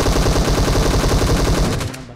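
Automatic gunfire in the mobile game PUBG during a tournament match, a loud rapid burst of shots in fast even rhythm that cuts off abruptly near the end.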